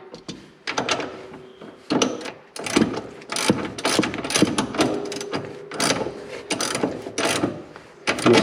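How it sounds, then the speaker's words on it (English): A ratchet with a 17mm socket tightens the tie rod nut on an EZGO RXV/TXT golf cart front end, producing repeated close bursts of clicking pawl strokes separated by short pauses, with no speech. "And then we'll go ahead and tighten down the nut on the bottom of the tie rod."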